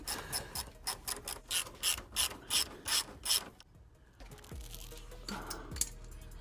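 A hand ratchet loosens bolts under a Porsche Cayenne during cardan shaft and exhaust work, a quick series of about a dozen crisp clicking strokes, then a pause and a few softer metallic clunks.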